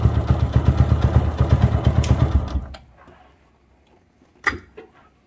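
A motorcycle engine, started from a lithium battery, runs loud and close with a rapid, steady chugging for about two and a half seconds, then cuts off into near silence before a short clunk or two.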